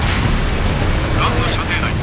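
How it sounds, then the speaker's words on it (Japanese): A missile launch and explosion in the Ace Combat Infinity flight combat video game, during the Moscow Battle mission with an F-15 S/MTD, a loud continuous roaring blast that fills the whole moment without a break. "ミサイル発射。"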